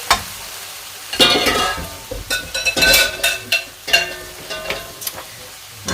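Marinated pork with its watery juice fries and sizzles in a pan as it is stirred, giving bursts of crackling and scraping that rise and fall irregularly up close.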